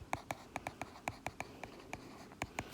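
Pen tapping and scratching on paper while a maths calculation is written out, about fifteen quick, evenly spaced clicks and strokes close to the microphone with no talking.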